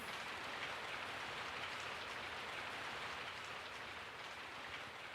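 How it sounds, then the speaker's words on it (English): Steady falling rain in the Resident Evil 3 video game on PS1, an even, continuous hiss of drops with no other sounds over it. "I woke up to the sound of falling rain."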